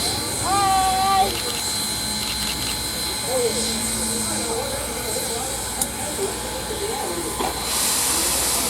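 A steam locomotive at the Tennessee Valley Railroad Museum in Chattanooga gives off a continuous broad hiss of escaping steam at moderate level, with a voice and other faint sounds briefly present in the background.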